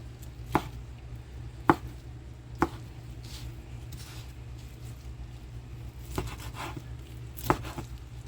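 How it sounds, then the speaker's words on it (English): Knife chopping food into cubes on a cutting board for Jamaican rasta pasta: sharp, irregular close thuds, three fairly evenly spaced, then a pause, then a few more, over quiet kitchen background. "I'm just cutting them up in cubes"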